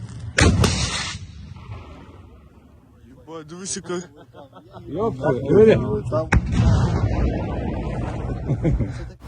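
A sharp, loud gunshot cracks at the start and echoes, followed by a rumble of further blasts while people talk and shout nearby.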